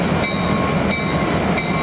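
Union Pacific 949, an E9 locomotive from Cheyenne, Wyoming used for excursions, passes with a broad rumbling roar broken by a few rhythmic wheel clacks, near and loud, with no talking.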